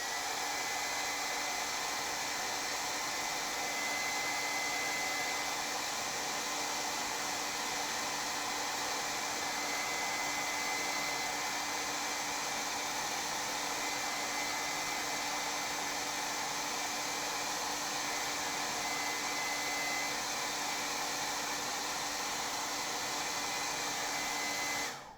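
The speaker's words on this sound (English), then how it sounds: "I'm gonna blast this real quick with my blow dryer" A blow dryer blasts steadily across a freshly painted Christmas tree card, a loud, constant whooshing roar that holds without a break for about twenty-five seconds, with no talking over it.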